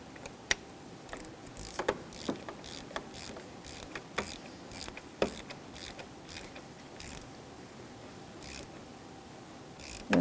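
A ratchet turning a 19mm deep socket on an oil temperature sensor of a 2.4L Jeep Patriot engine, quiet rapid clicking in short irregular runs with sharp metallic ticks, close by and without talk.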